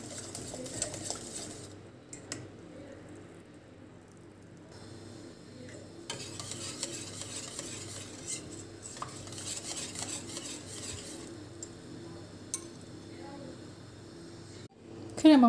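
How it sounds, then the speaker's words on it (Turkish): A whisk beats eclair pastry cream as it cooks in a pot, quick rhythmic clicking and tapping of metal against the pan, close and fairly quiet, with a sharper clatter at the end. "Diğer yandan da kremamızı çırpa çırpa pişirin."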